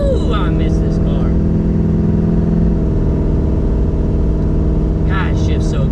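Old big-bodied Ford Fairlane engine droning steadily from inside the car while driving, with a gear change midway shifting the pitch, loud and continuous beneath cabin noise.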